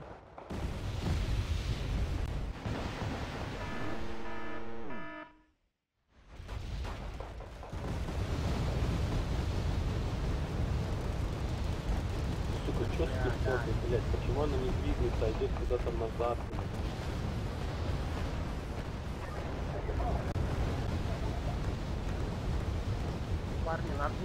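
Bombing runs in Wargame: Red Dragon at Wonsan port, with dense rumbling explosions and battle noise filling nearly the whole stretch, broken by one brief silent gap, while someone talks over the din.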